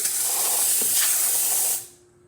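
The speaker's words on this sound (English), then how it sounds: "nice strong steam" A strong, steady hiss of steam from a Rocket espresso machine's steam wand purging for about two seconds, loud and close, then cutting off abruptly into quiet.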